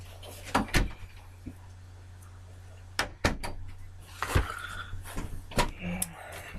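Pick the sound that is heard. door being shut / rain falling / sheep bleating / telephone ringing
door being shut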